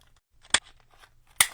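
Two sharp scissor snips cut through paper, separated by a pause, close and crisp over a quiet background.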